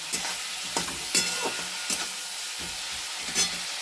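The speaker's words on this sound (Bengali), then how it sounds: "একটু ফুলকপিটা ভাজা হোক ভালো করে।" Cauliflower pieces fry in a wok with bay leaves, salt and turmeric, giving a steady close sizzle broken by repeated scraping stirs of a spatula at uneven intervals.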